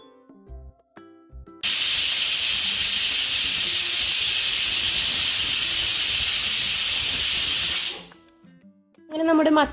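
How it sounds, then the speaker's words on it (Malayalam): Pressure cooker holding pumpkin and cowpeas for a Kerala erissery lets out a loud, continuous whistling hiss of steam lasting several seconds, starting and stopping abruptly, with a voice speaking before and after. "നമുക്കിതൊന്ന് ഒരു 3 വിസിൽ വരുന്നവരെ മീഡിയം ഫ്ലെയിമിലിട്ടൊന്ന് വേവിച്ചെടുക്കാം."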